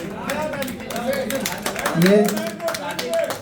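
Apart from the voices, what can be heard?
people clapping loudly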